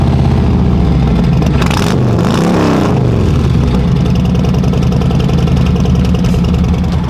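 A 2019 Harley-Davidson Road Glide with a Cobra exhaust, parked at a dealership, rumbles loudly and steadily close by, with one sharp rev climbing and falling back to idle partway through.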